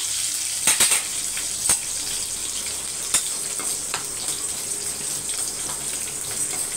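Shallots and curry leaves fry in hot oil for sambar with a steady, loud hiss and sizzle, broken by a few sharp crackles and pops.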